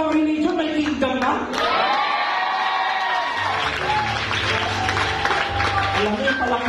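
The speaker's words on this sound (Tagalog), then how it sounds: "Alam mo yung palakpak na pang barangay talaga." A church congregation applauds, and the clapping and cheering rise and fall over a steady din of voices and tonal sounds.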